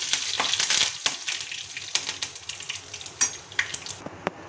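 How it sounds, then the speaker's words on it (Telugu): A tempering for beetroot chutney fries in hot oil and crackles loudly as curry leaves go in, the sizzle dense at first and then breaking into scattered pops and spoon taps. "ఇలా ఎర్రగా వేగిన తర్వాత లాస్ట్ కరివేపాకు వేసుకోవాలి."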